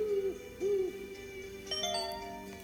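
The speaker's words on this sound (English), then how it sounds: "The shadow hooted again." An owl hoots twice in close succession, each call a soft swooping tone. Faint chiming tones follow near the end over a quiet background.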